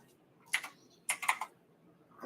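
Typing on a computer keyboard, heard close up as a few quick bursts of clattering keystrokes separated by quiet pauses, with no talking.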